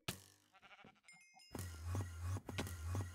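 Bleats from sheep in the video game Sheepwars, a short pair of bleats early followed by louder, sustained sheep cries with game chimes over a steady low hum.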